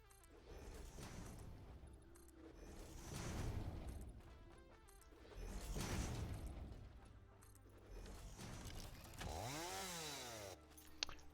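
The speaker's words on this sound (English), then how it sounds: "I like the chainsaw, but damn," A chainsaw in the video game Satisfactory revs in loud swelling bursts that rise and fall several times, ending in a sweeping mechanical whine and a final crash.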